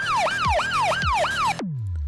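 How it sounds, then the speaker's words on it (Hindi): Several sirens wail together in rising and falling sweeps, loud and close, then cut off abruptly into a fading low tail. "अगले ही पल वातावरण में गूंज गई कई सायरनों की आवाजें।"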